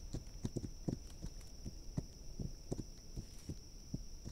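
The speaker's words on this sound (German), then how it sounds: "jetzt reiten wir mal ein bisschen näher ran" Horse hooves clip-clop at a steady walking rhythm while riding through a survival game world at night, each footfall a soft thud over a constant high electronic whine and faint background hum.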